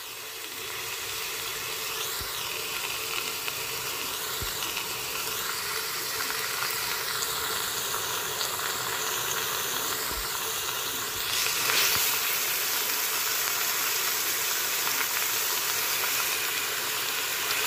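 Chopped onion and kabocha squash fry in oil in a pan for a simple kabocha soup, giving a steady, close hiss of sizzling throughout, broken by a few soft knocks of stirring.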